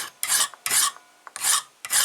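A file rasps across a homemade guitar pick clamped in a bench vise, four firm back-and-forth strokes in a steady rhythm, close and loud with no talk.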